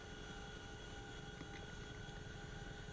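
A CH-47F Chinook helicopter descends in DCS World. Its engines and rotors make a steady, even drone and whine throughout, with a low rumble underneath.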